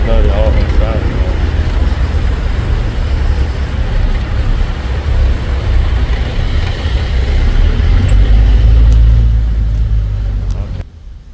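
A tuk-tuk motor drones and rumbles loudly and continuously while driving through a flooded street in Thailand, with water wash and wind noise, heard from inside the vehicle, with a voice speaking over it briefly.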